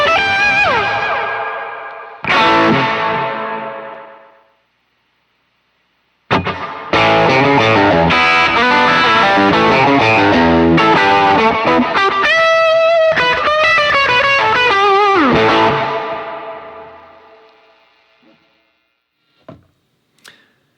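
Electric guitar lead lines driven through a Kilt overdrive pedal with reverb, loud sustained distorted notes in two phrases separated by a short gap, with a long reverb tail fading to near silence and a couple of faint late plucks.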